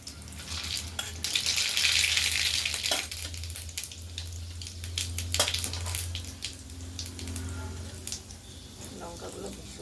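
Mustard seeds and spices crackle and sizzle in hot oil, a loud hissing burst that settles into steady frying with sharp pops, while someone talks over it.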